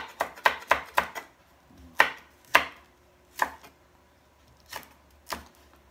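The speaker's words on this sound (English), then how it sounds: "I'm gonna chop some chili." A knife chops chili on a cutting board, about ten sharp, separate knocks in an uneven rhythm with short pauses between them, close and fairly loud, with no talking.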